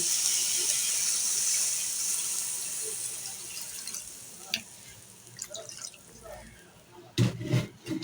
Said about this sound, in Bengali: আর দিয়ে দিচ্ছি পানি।